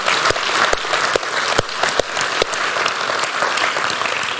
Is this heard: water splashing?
no